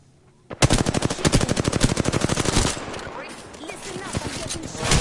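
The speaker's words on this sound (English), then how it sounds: "Listen up, I'm getting shot" Rapid automatic gunfire in a multiplayer shooter video game, a loud close burst of quick regular shots that cuts off into fainter scattered shots and game noise.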